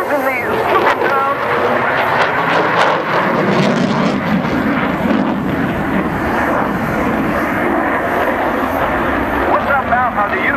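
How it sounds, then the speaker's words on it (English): A Eurofighter jet at the Fairford airshow climbs fast in a spiral under full thrust, a loud continuous roar sustained throughout with people talking beneath it. "How the Eurofighter gains altitude in a really short time, performing a fast climb with a spiral in full thrust mode"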